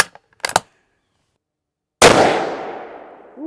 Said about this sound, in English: I'm going to shoot this gun as a comparison, just to see if I am shooting like crap, or if it is the gun.